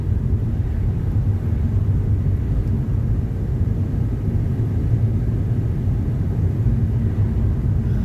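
A car drives through wet, rainy January weather, its steady low road rumble and tyre hiss continuous and close throughout, with no voices.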